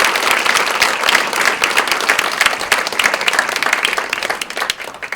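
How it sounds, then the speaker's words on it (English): An audience at a speaker-series event gives a dense, sustained round of applause, loud and even throughout, with many hands clapping together and no voices on top. "So let's give them another round of applause."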